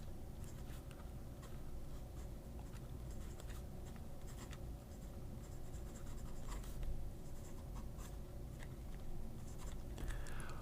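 Steel nib fountain pen scratching across paper in continuous strokes, a steady dry rasp that skips and catches unevenly, fairly close and alone.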